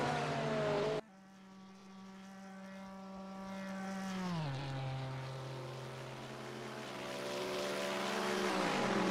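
GT3 race cars, a BMW and a Bentley, battle in a sim racing game, their engines droning loudly and steadily with harmonics that sweep down as one car shifts gear, then climb again.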